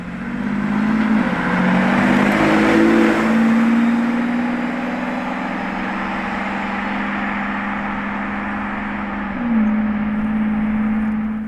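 A white Lamborghini Revuelto passes nearby on the street with a loud, droning engine tone that rises and falls and rises again later, over steady road noise.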